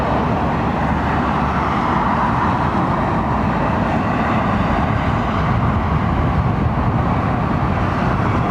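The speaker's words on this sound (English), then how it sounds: "Might hear that 787 fire up" Steady broadband roar of a Boeing 787's engines spooling up at London Heathrow Airport, a continuous loud, even drone holding for several seconds with no voices.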